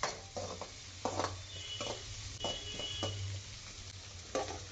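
Chopped onions and green chillies fry in oil, with a constant gentle sizzle close by, punctuated every second or so by brief stirring scrapes against the pan.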